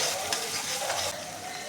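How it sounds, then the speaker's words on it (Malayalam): Chopped onion, ginger and garlic sizzle and hiss steadily in a hot pan for chilli chicken, with stirring scrapes close by and no talk. "ചെറുതായിട്ട് അരിഞ്ഞ സവാളയും ഇഞ്ചി വെളുത്തുള്ളി ഇത് വഴറ്റുക."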